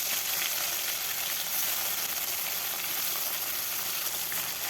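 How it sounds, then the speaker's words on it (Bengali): A batch of tangra fish sizzles in mustard oil in a kadai, a loud, unbroken, even crackling hiss heard up close with no voices. "বাকি মাছগুলোও আমি এভাবে ভেজে নেব।"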